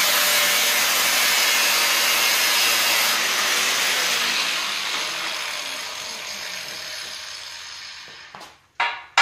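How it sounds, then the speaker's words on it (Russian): Sawing in a garage, a continuous hiss of rasping strokes that gradually fades, then a few sharp knocks at the end; close, no talk. "В общем, пилить буду долго."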